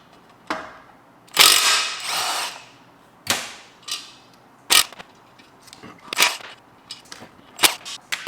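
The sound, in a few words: ratchet loosening bolts on Porsche BBS E50 wheel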